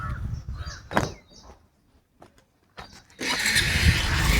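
A vehicle engine cranks and catches, then settles into a loud, steady idle close by after a stretch of scattered voices and brief quiet.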